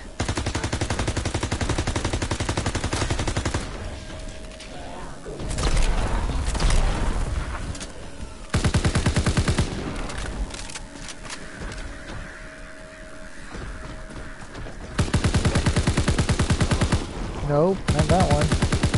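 Bursts of rapid gunfire from a Call of Duty WW2 match come in loud clustered volleys separated by quieter gaps, with tonal game sounds between the bursts.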